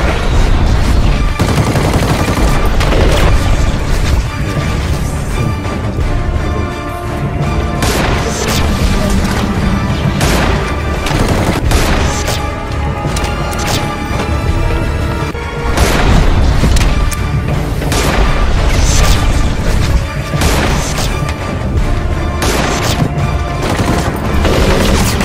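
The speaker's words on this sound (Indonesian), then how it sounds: "aksi saling tembak pun terjadi" A shootout fills the air with repeated gunfire exchanges, loud cracks and bursts arriving in irregular volleys with booming impacts, constant and intense from start to end.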